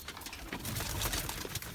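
Soft, low pigeon cooing murmurs beneath a dense, noisy background rustle, close but muffled.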